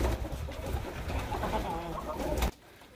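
Pet pigeons coo in low, rolling, repeated calls close by, over a dense background bustle, and then the sound cuts off abruptly near the end.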